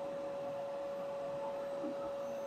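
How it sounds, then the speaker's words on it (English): CNC router dust collection vacuum running steadily, a constant faint whirring hum with a steady tonal whine, no talk. "Vacuum came on."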